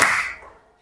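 A single sharp burst of many hands clapping together at once in a classroom chant, loud and close, with a quick decaying wash and no voices.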